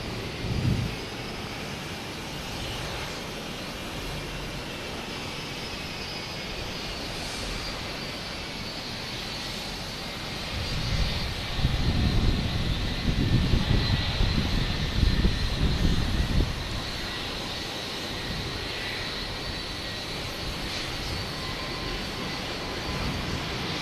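A JetBlue Airbus A220 takes off at Boston Logan Airport, a steady distant jet roar with a high engine whine that swells louder midway before easing back.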